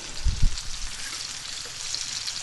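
Food sears in a very hot frying pan for an English breakfast terrine, a steady broadband crackling hiss that runs throughout, with a couple of low thumps near the start.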